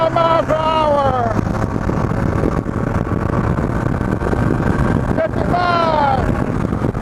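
A 2009 Honda Rebel 250 motorcycle ridden at full throttle, its engine droning loudly and steadily under heavy wind rush, with rising whining tones as it pulls through the gears.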